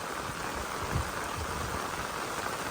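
Rain falls steadily during cast net fishing in a Kerala village, a constant broadband hiss of drops with a few faint low thuds, alone and without voices.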